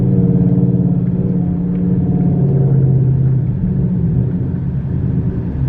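A bagged, full-bolt-on Ford Mustang engine hums steadily and loud up close, with low droning rumble and mild revving as a learner works the manual clutch and brakes, no talk over it.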